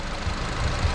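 A 1.6-litre turbocharged PureTech petrol engine in an Opel Grandland X runs steadily with its bonnet open, giving a low, even hum with faint rhythmic pulsing and no voices over it.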